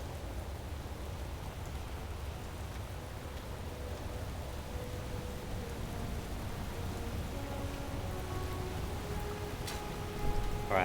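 Steady rain hiss in the video game Space Engineers, a thunderstorm with lightning on a public server, holding an even wash throughout with faint tonal hums and a brief louder crackle near the end.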